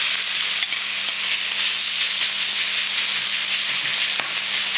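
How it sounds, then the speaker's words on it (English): Leftover Christmas turkey meat sizzles loudly in a smoking-hot oiled wok over high heat, a steady dense frying hiss with a few faint clinks, no talking. "Great sizzling sound."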